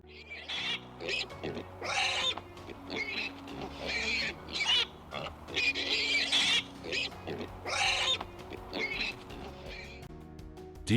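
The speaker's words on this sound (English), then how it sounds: "It's a pig." Pig grunts and oinks in an animal sound guessing quiz, a series of short, close calls repeated over several seconds with brief gaps between them.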